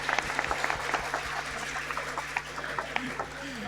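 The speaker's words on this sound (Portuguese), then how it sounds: "E eu só queria mais uma salva de palmas, por favor." A church congregation at a camp service applauds, with scattered, irregular claps of moderate loudness from a crowd, sounding somewhat distant and thin, with some murmuring underneath.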